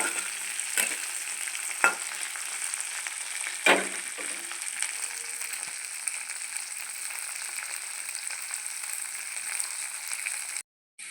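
Onion, green chillies and ginger frying in a pan for idli upma, a steady soft sizzle with a few sharp clatters of stirring near the start, continuing alone until a brief drop near the end.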